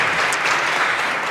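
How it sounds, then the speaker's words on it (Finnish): Steady, dense applause from a conference audience fills the whole moment at an even, loud level, with no voices over it. "annetaan teille kaikille vielä aplodit."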